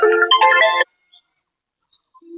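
A mobile phone ringtone plays a bright, melodic burst of tones for under a second, then cuts off into near silence with only faint scattered sounds.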